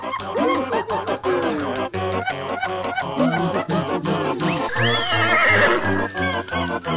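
A horse whinnies in a rising, shrill neigh partway through, set against loud rhythmic music.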